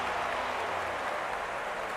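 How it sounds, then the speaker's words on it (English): A large crowd cheering and roaring in a Warcraft game trailer, a dense, continuous wall of voices and clapping with no breaks across the short stretch. "Why is the crowd so loud here?"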